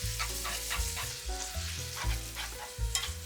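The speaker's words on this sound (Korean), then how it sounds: "마늘이 노릇해졌다면 파스타 면과 오리고기, 멸치 액젓 한 스푼을 넣고 잘 섞어줍니다" Pasta, duck and anchovy fish sauce are stirred in a frying pan over browned garlic, making a steady sizzle with repeated scraping strokes of a utensil, close and fairly soft.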